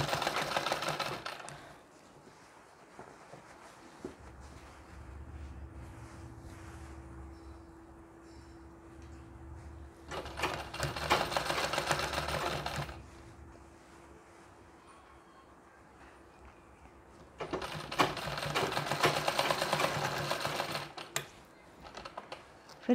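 A sewing machine stitching a Nauvari saree runs in three loud, rapid bursts of clattering needle strokes separated by quieter stretches with a low steady hum, close by and alone.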